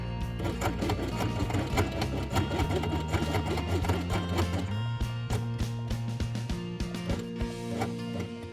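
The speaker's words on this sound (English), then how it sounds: "Sew them with white thread." Sewing machine stitching beige felt with white thread for a fabric Christmas quiet book elf page, a steady close, loud mechanical run of rapid rhythmic needle strokes with motor hum throughout.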